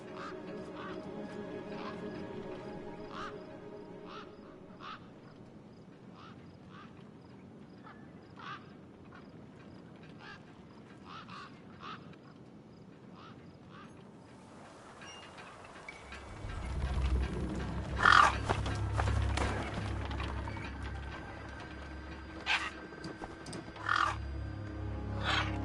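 Gang birds cawing in the cyberpunk video game Beyond a Steel Sky: repeated short, rasping caws at a steady pace over a quiet ambient bed, then a louder, denser rumble of game noise with scattered mechanical clanks.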